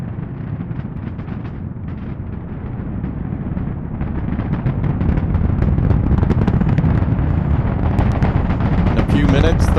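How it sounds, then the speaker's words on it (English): The deep, roaring rumble of the Merlin engines on an expendable SpaceX Falcon Heavy builds steadily as the vehicle climbs, a dense, crackling continuous roar under commentary. "Now beginning to hear the rumble of those Merlin engines as the vehicle pitches downrange."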